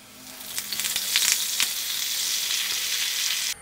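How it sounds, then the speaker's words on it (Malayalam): Curry leaves frying in coconut oil give a steady, bright sizzle with crackling pops throughout, no voices, then cut off abruptly at the end. "ഇനി അടുത്തത് നമുക്ക് കറിവേപ്പിലയും കൂടി വറുത്തെടുക്കാം"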